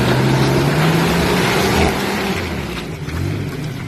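A Toyota 4Runner engine revs hard off-road on a rocky mountain trail, a loud, close, throaty roar with a rising and falling pitch as it climbs over a rock.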